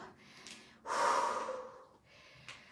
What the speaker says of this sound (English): I'm exaggerating the breathing